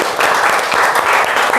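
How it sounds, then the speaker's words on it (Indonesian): Students in a classroom clap for the first group after its math presentation on exponents. The applause is loud, close and continuous, with dense hand claps throughout the short burst. "Kasih tepuk tangan dulu untuk kelompok pertama."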